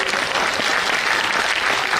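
Audience at a mushaira poetry event in Aurangabad bursts into dense, loud clapping that holds steady throughout, with no voices over it.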